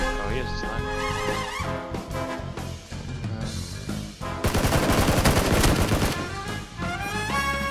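Rapid automatic gunfire from heavier weapons in a PUBG match, loud and close, with dense bursts swelling into a sustained barrage near the end while voices chatter underneath.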